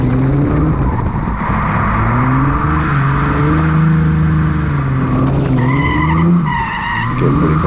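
Nissan Z31 drifting at Mission Raceway Park, close and loud: the engine drones and bends in pitch under long tire squeal as the car slides and spins out, with the engine note jumping higher near the end.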